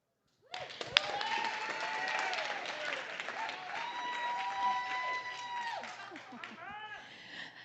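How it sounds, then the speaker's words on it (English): An audience at a startup pitch night breaks into applause for a presenter, dense clapping rising sharply and holding steady before tapering off, with voices and a cheer or two under it. "Give a big round of applause, please, for Connor Phillips"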